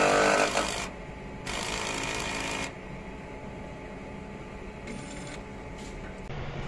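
Mechanical whirring and rattling from a solvent printer running its head-cleaning cycle, loud bursts at the start and again midway, with steady machine hum between and no talk.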